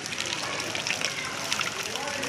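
Floodwater gushing through the streets of a poor village settlement in Ahmedabad after heavy rain: a constant, loud, hissing rush of water with no pause.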